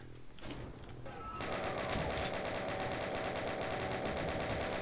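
A chaingunner enemy in Doom opens fire with its chaingun: a rapid, continuous stream of mechanical shots that starts after a brief quieter moment and keeps rattling steadily at moderate loudness.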